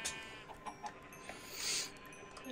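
Chickens in Minecraft clucking in short, soft, scattered bursts with a faint chime-like tone in the background, no talking.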